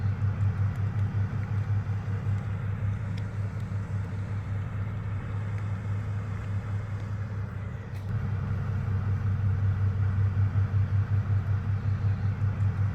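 Boat traffic on a river: a continuous low engine drone and rumble, fairly close and steady, swelling slightly toward the end, with no talking.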